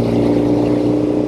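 A 1972 Norton 750 Combat motorcycle with rubber-mounted engine running smoothly at high RPM, a close, loud, steady droning hum with no break.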